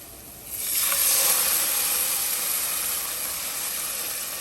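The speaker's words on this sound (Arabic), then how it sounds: "هاجي احط الصلصه على البصل والثوم" Tomato sauce poured onto onion and garlic frying in a pan for an okra and meat stew, bursting into a loud, steady hissing sizzle that swells within the first second and then holds with no voices over it.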